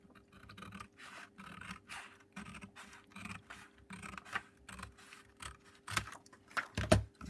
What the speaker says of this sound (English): and I crease that down there, and then I cut that off.